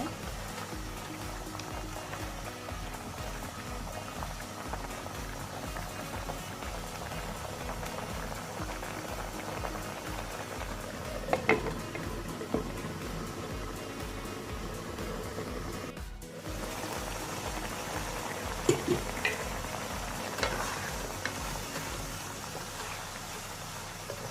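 Honey-glazed pork ribs bubble and sizzle in a pan as they are stirred, a steady dense crackle with a few sharper scrapes and knocks, continuous and fairly close with no talking.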